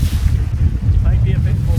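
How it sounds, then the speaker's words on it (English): Steady wind rushes past a sailboat running with a fully reefed main and full jib in roughly 15 knots, a continuous low buffeting roar across the microphone with water noise beneath. "We're going along with a fully reefed main and a full jib at the moment, and I think it's blowing about 15 knots."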